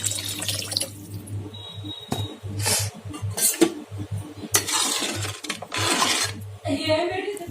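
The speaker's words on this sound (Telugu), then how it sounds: "ఆ చింతపండు రసాన్ని ఇందులో పోసుకొని కలుపుకోవాలి" Tamarind juice is poured into an egg masala gravy and stirred in, giving splashy watery pours and clinks in uneven bursts over a steady low hum.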